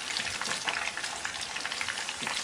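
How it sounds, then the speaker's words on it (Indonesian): Pieces of Muscovy duck meat fry in hot oil with a dense, steady crackling sizzle, heard close and moderately loud with occasional stirring and no talking. "Kita goreng dulu mentoknya."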